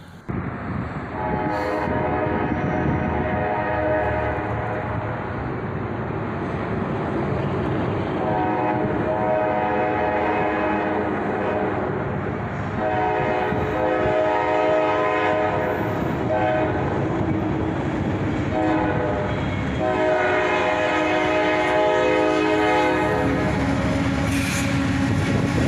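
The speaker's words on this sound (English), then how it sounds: "A northbound intermodal and auto rack train, led by CSX 76 and 66" A northbound CSX intermodal and auto rack freight train, led by two AC44 locomotives, rumbles past at close range, its horn blaring in repeated long blasts over the steady roar of rolling cars.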